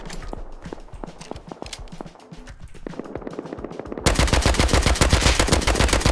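Rapid automatic gunfire in the survival game Rust, with dense bursts of close shots, then a louder, more intense stretch of sustained fire toward the end.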